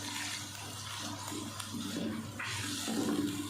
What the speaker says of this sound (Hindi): थोड़ा सा हम पानी ऐड करेंगे